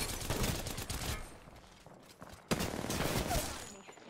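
Gunfire rattles in Apex Legends, sustained bursts of rapid shots at moderate loudness, with a short lull in the middle before another sharp volley.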